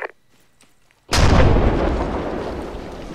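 Breaching charges detonate in a military shooter game, a sudden loud blast after a near-silent pause, followed by a long rumbling decay.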